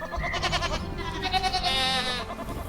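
Cashmere and Spanish goats bleat in overlapping, wavering calls, several close and loud voices one after another with no pause and no one talking.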